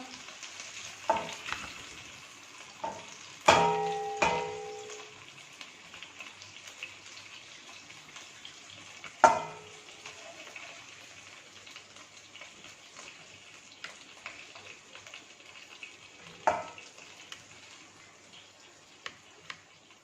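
Mutton gola kebabs fry in a pan, a steady low sizzle with sharp clicks and clatters of turning and stirring at a few points, close by and alone, with no talk.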